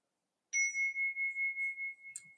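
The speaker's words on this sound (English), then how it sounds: "So I'll invite the bell." A meditation bell is struck once, ringing out as a clear sustained tone that pulses gently as it decays over about a second and a half in a quiet room.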